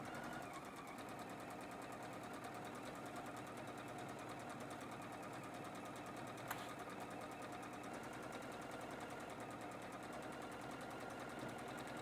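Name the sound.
sewing machine back stitching an apron seam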